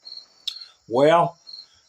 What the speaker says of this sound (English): You can hear my crickets chirping?